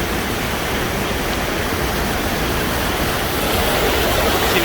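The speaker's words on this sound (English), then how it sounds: "See if we can zoom in a bit on that waterfall." Waterfall at Falls Creek in rainy, lush Girdwood, Alaska, a steady broadband roar of falling water rushing continuously and fairly loud throughout, with no talk.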